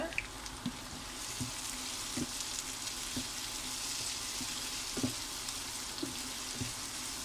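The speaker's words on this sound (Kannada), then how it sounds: "ಟೊಮೆಟೊ ಸ್ವಲ್ಪ ಫ್ರೈ ಆಗಬೇಕು" Tomatoes frying in a pan for cabbage bajji, a quiet steady sizzle with periodic soft knocks of stirring spaced about a second apart.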